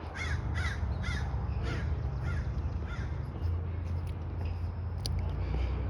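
A crow gives a rapid series of about five harsh caws early on, then fainter scattered calls over a steady low background hum, with no talk.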